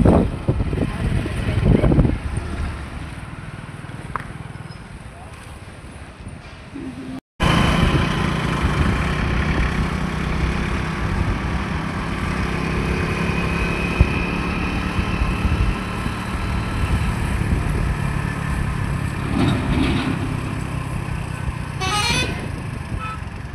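A motorcycle rides along a road toward Yellamma hill, its engine and wind roar loud and continuous throughout, with a brief cut early on and a horn-like tone near the end.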